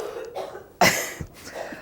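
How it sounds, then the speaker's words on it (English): A single sharp cough bursts out after a quiet moment, followed by faint breathy sounds. "She's choking. She's trying not to cough."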